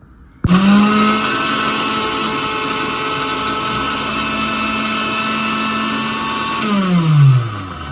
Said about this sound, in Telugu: మనం ఏదైతే మసాలా తీసుకున్నామో అది మిక్సీ పడుతుంది